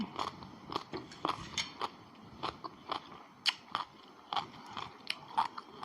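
Someone bites and chews a spicy Luang Prabang-style pounded salad, with close, irregular crunches and crisp snaps repeating over quiet chewing and no talking.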